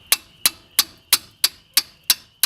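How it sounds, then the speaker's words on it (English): A mallet strikes a 17 mm wrench on the front brake caliper bracket of a 2012 Subaru Legacy, eight sharp metallic blows at an even, roughly three-per-second rhythm, close and loud with no talking. "Yep, hammer it down."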